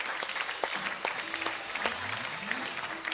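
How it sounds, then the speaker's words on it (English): Crowd applause rings out around the glass court at the World Women's Team Squash championship as the runners-up are recognised, a dense steady patter of clapping with some sharper near claps and faint voices underneath. "Voilà, applaudissements."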